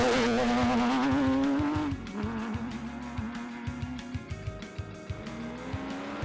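Off-road trophy trucks racing at the Griffith 400, a loud, close engine roar with rising pitch that breaks into rapid mechanical bursts and rumble as the vehicles pass, no talk.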